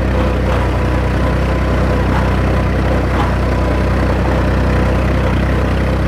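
A heavy Fiat 480 diesel tractor engine idles loudly and continuously up close, a steady low chugging with faint rhythmic knocks.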